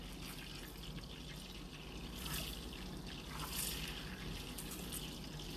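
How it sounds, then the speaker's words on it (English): Brown butter bubbling and sizzling hard in a pot, a steady crackling wash of fine pops with brief louder spurts, close and alone without talk. "This is hot boiling butter."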